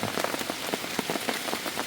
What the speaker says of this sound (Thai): มันฝนตกแล้ว